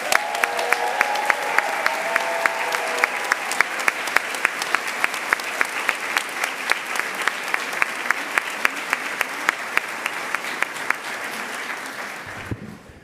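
Audience applause at a graduation ceremony, a steady, full round of clapping from a large crowd that holds evenly for over twelve seconds before cutting off.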